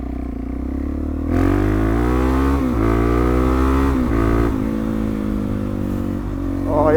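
A supermoto motorcycle on a country road, with its engine droning steadily and loud close by, pitch rising and shifting as the bike pulls along, then a fresh rev at the very end.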